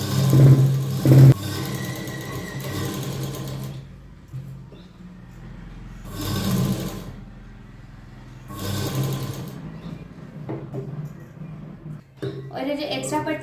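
A sewing machine stitching a fabric strip onto a blouse runs in several short bursts with pauses between them, its whirring buzz close and fairly loud while a voice speaks around the stitching.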